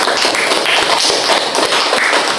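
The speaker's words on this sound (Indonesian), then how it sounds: "Tepuk tangan untuk April." Dense, loud clapping from a classroom of students, rapid overlapping claps forming a steady wash of applause close by.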